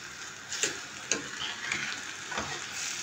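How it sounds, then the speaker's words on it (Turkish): Bulgur with hot pepper sizzles and fries in a pan, a soft steady hiss broken by a few light scraping stirs, heard close and quiet with no talking. "Şimdi güzelce kavuruyoruz."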